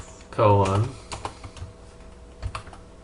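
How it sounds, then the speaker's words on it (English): A few soft keystrokes tapped on a computer keyboard while entering a web address, sparse quiet clicks following a short burst of speech. "So I'm gonna type http://"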